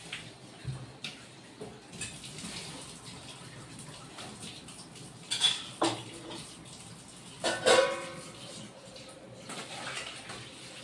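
A pot of red lentil dal is lifted off the stove, giving scattered metallic knocks and scrapes with a couple of louder clanks over faint kitchen background.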